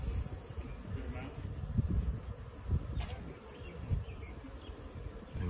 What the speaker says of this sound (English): Got the bucket of bees right there